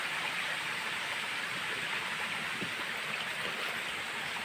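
Steady rushing spring water flows continuously from under rocks, a close, even gush, with no voices.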